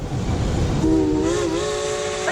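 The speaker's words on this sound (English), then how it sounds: "A train!" A train whistle sounds as a stage-play effect, a single sustained, slightly wavering blast over a low rumble, with no talk.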